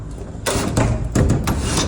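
A sliding door on the 37th floor of a condo apartment is pulled open with a few close, rough scraping and rattling bursts over steady background noise.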